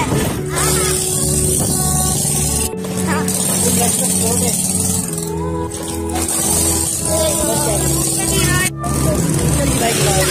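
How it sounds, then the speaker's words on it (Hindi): Traffic on a main road flows past as a continuous loud roar of car and bus engines with rising and falling motor tones, recorded close by while riding along, with a voice speaking over it. "गाड़ियों की आवाज़ सुन के आप बता सकते हो बसें और आ रही है।"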